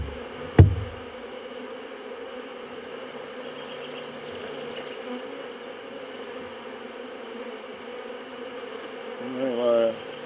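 Honey bees hum in a steady, dense drone during a beehive inspection. A sharp knock comes early, and the buzzing rises slightly near the end.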